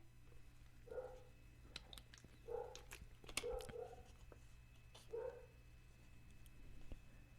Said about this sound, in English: my dog's throwing a fit